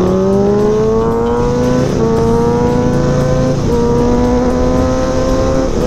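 A Harley motorcycle in second gear blasts along a smooth St. Louis street, its engine loud and close with a rising, revving tone that climbs, dips at a shift, then climbs again, and no voices.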